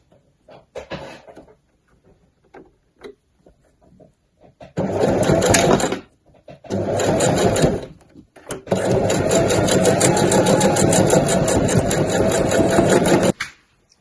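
Sewing machine stitching through several layers on the side seams and tabs of a weekender bag. It runs in one short burst, stops, then makes a longer steady run close by, with some handling noise before it starts.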